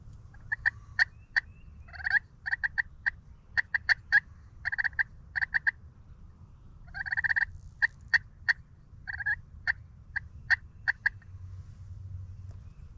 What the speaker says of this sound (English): Oh, it's a turkey.